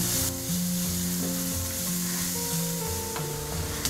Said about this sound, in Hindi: प्याज डालेंगे प्याज को हम हल्का ब्राउन होने तक भुनेंगे